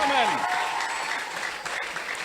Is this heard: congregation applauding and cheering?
yes